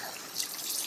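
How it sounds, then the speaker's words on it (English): Water trickles and drips from a pump fitting where an O-ring has popped out on a homestead water system, a faint, steady hiss-like dribble with no talk. "So there is water coming out of here, but it's through like a bit of O-ring that's just popped out"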